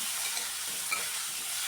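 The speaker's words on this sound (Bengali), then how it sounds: "এবার ওই তেলের মধ্যে লবণ হলুদ মেখে রাখা আলুটা ভেজে নিচ্ছি।" Potato pieces coated in salt and turmeric frying in oil in a pan, giving a soft, steady sizzle with faint hiss, fairly quiet and unbroken, with no talking.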